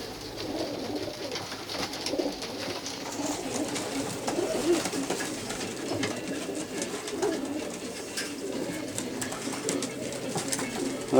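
Pigeons cooing continuously in a loft during trapping, several birds giving soft overlapping low coos near the listener, with light rustling and flutter throughout.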